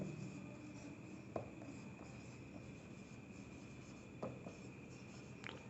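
Chalk or marker writing on a board during an electrical resistance lecture, faint scratchy strokes with a few sharper taps over a quiet room hum and steady background hiss.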